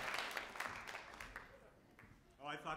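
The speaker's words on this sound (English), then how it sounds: "the applause would last longer" Quiet comedy show audience applause, a steady wash of clapping that fades, with a voice starting to speak at the end.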